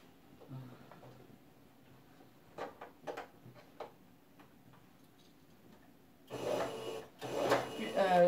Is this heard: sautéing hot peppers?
no